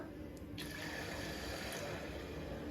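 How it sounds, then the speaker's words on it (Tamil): Water pours steadily into a butterscotch ice cream mixture in a home kitchen, making a continuous, even splashing rush from start to finish with no talking. "இப்போ நம்ம இதில் வாட்டர் ஆட் பண்ணிக்கலாம்."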